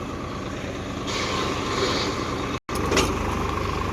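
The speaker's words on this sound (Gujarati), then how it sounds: "હવે આપણું ટ્રેક્ટર ચાલવા માંડ્યું આગળ" A Swaraj 855 tractor engine runs steadily nearby with a low rumble during chickpea sowing, briefly cutting out for a split second before resuming.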